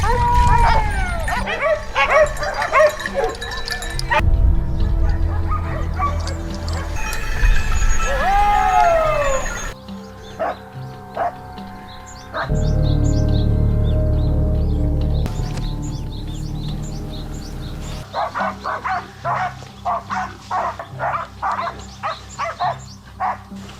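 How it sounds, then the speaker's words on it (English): Hunting hounds bark, yip and growl in woodland during a wild boar hunt, with repeated close, loud barking bursts and some whimpering between them, and a low rumbling background underneath. "the hounds suddenly growled and charged toward a thick patch of brush"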